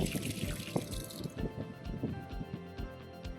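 Water splashing and dripping from a tap in a basic outdoor or camp setting, an uneven run of quick wet spatters and drips, close but fairly quiet, with no talk.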